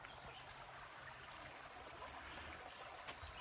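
A creek flows under a bridge at Stony Fork Campground in Virginia, a faint, steady rushing trickle that continues without pause and with no voices.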